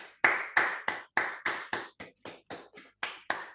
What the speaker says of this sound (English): let's thank Velimir with a round of applause